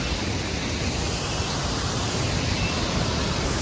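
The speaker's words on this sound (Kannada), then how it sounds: "ಸೊ ನೋಡಿ ಹಿಂದೆ ನೋಡಿ ವಾಟರ್ ಫ್ಲೋ ಹೆಂಗಿದೆ, ಸಕ್ಕತ್ತಾಗಿದೆ." Waterfall water flowing in a steady, dense rush of broadband roar, close and constant with no breaks or voices.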